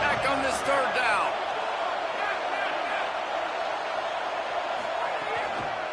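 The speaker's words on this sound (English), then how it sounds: "Guns up, and so is the noise. The crowd electric, trying to help Tech on this third down." Stadium crowd roar in the College Football 27 video game, fans cheering for Tech on a third down; a dense, steady wall of cheering with scattered whoops rising above it, loud and continuous throughout.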